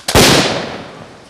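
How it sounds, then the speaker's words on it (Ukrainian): A grenade simulator bursting during a tactical training drill: one sharp, loud blast with a quick crack, then a rumbling tail that fades over about a second. "Граната з фронту!"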